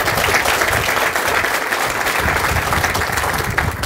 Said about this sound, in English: So let's give all those individuals a round of applause as well.